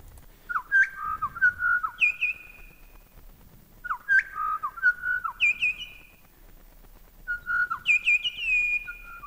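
A butcherbird sings clear, fluting whistled phrases in three repeated bursts separated by pauses, each phrase varied slightly, close and distinct against a quiet background.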